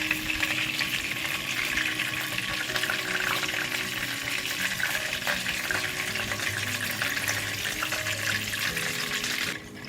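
Pomfret fish sizzles and crackles steadily in hot oil in a frying pan, a continuous frying hiss that stays close and fairly loud throughout.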